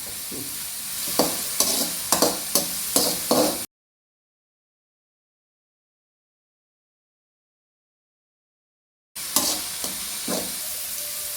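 Curry leaves sizzling in hot oil in a pan for Kerala-style rasam, stirred with quick repeated clatters over a bright hiss, then a long gap of silence before the sizzle returns.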